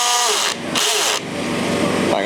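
A new cordless drill pre-drills a bolt hole on a frame, whining loudly in short bursts with brief stops between them.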